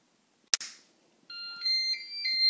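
Tefal Cook4me Connect electric pressure cooker powering on: a sharp click, then a melodic electronic start-up tone of sustained beeping notes that step in pitch, close and clear with no talk.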